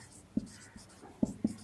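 Chalk or marker taps and scratches on a classroom board during an English lesson make a few quiet, sharp strokes spread over a moment, with near silence between them.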